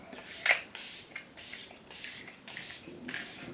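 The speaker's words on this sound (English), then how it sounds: "going to go for the e.l.f. Stay All Night Microfine Setting Mist" Several short, fine hissing spritzes of e.l.f. Stay All Night Microfine Setting Mist, about six bursts in an even rhythm, close and soft in a quiet room.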